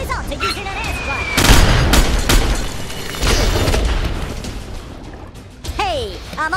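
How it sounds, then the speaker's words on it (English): Booming airstrike explosions from the video game Worms W.M.D., a dense burst of loud rumbling blasts followed by a second volley, with cartoonish voices and effects chirping around them. "So why you have to resort to using an airstrike?"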